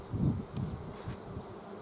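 Honey bees buzzing around the hives in August, a close, low droning hum that swells and fades as individual bees pass near, with no talk.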